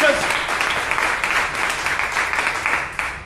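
An audience in a church claps briefly, a short, dense burst of applause at moderate volume that fades near the end.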